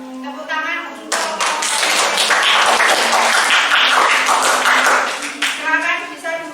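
A classroom audience claps for about four seconds, a dense burst of hand claps that starts abruptly. A voice speaks before and after it.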